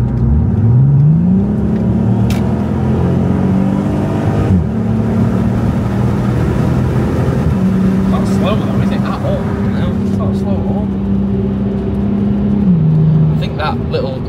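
A VW Passat 3.2 with a custom exhaust revs up loudly and holds steady engine tones that rise and fall, with a brief dip midway, alone and close.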